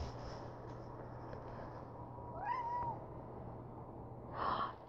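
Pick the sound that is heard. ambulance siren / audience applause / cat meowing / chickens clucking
cat meowing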